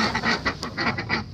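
Female ducks quack repeatedly in a close, loud, overlapping chorus while feeding indoors in a poultry shed, with steady rhythmic calls.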